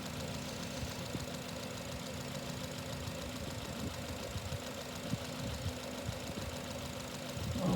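Honda engine running with a steady idle hum and knocking vibration, faint and continuous, with a slight rise in level near the end as the throttle is snapped.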